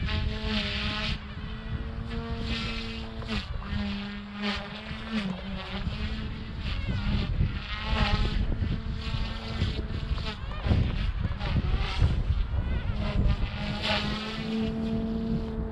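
A Goosky S2 Legend RC helicopter's rotor spools up, a loud buzzing whine rising and holding at high head speed, close by with changing pitch.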